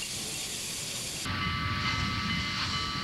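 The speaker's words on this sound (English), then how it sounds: "The largest operating steam locomotive in the world is the Union Pacific's number" Union Pacific 3985 Challenger, a large operating steam locomotive, rumbling past with a steady broadband roar and hiss that shifts abruptly partway through, loud and continuous with no talk.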